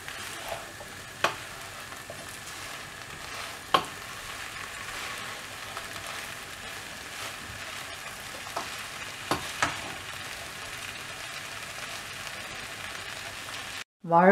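Raw banana podimas mixed with grated coconut is stirred in a pan close up, with a steady soft sizzle and occasional sharp scrapes and clicks of the spoon against the pan.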